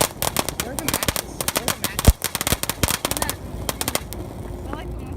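Backyard fireworks going off in a rapid crackling barrage of sharp pops and bangs, loud and close, with one heavier boom near the middle before the bursts thin out.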